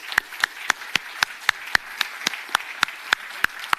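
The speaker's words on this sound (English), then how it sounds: "Please give them a round of applause" Evenly spaced claps ring out in a steady, unhurried rhythm, roughly fourteen sharp hand strikes with nothing else around them, as applause for the speakers at the close of a Bled Strategic Forum 2024 panel session.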